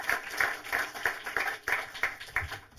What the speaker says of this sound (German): Auch ein Applaus an alle unsere Sponsoren.